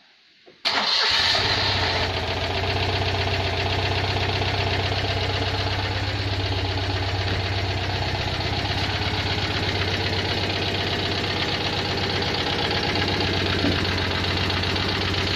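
A Citroen 2CV engine fitted with a new exhaust cranks and catches after a short start, then settles into a steady, loud, close-up idle with an even mechanical throb that carries on unbroken.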